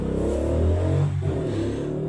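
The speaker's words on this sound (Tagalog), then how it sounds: "Ayan, may dumaang motor." A motorcycle passes by on a street, its engine swelling to a moderate roar and then fading, heard from a short distance.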